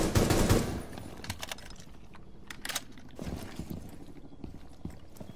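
Shotgun fire in a video game, a loud blast at the start followed by a scatter of sharper shots and clattering mechanical clicks over a busy background.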